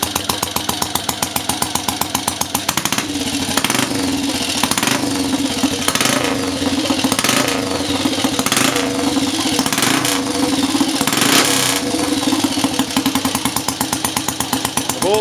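A cold-started Scrambles Cub motorcycle engine runs steadily, close and loud, with a rapid rattling idle and a few periodic bursts of revving throughout.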